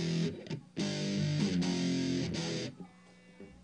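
Electric guitar chords on a Fender Telecaster (Mexican version) played through a Boss DS-1 distortion pedal, heavy fuzzy strums in short bursts with brief gaps, then fading to a ringing tail.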